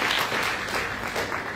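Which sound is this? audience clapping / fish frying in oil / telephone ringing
audience clapping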